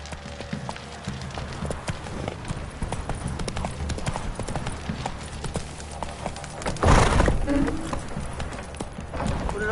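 Roach the horse galloping in The Witcher 3 video game, rapid rhythmic hoofbeats on the ground throughout, with a brief louder burst partway through and faint speech.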